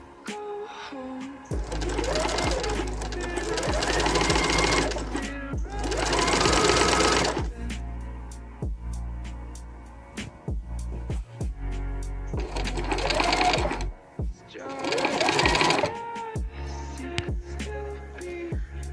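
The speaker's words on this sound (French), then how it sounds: "on va coudre à 1 cm pour la valeur de couture. Et on choisit bien sûr un point droit" A sewing machine runs a straight stitch through cotton jersey fabric, close and loud, in several sustained bursts of rapid whirring with short pauses and small clicks between.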